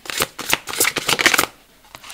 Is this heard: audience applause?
no